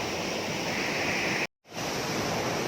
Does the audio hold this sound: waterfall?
yes